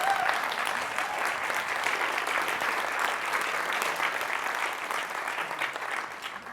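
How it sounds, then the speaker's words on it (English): Sustained applause from a crowd at a lightning talk Q&A event, dense and even clapping filling the room for several seconds without a break. "Let's first start by giving them a round of applause."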